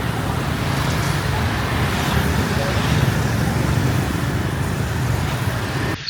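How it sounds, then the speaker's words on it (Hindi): Dense road traffic in Ho Chi Minh City makes a continuous, even roar of engines and tyres that stays steady and close throughout, with no distinct horn or pause. "तो ट्रैफिक देख रहे हो आप"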